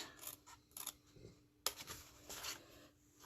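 Scissors snip through card stock in several quick, quiet cuts close by, with soft rustling of paper in between.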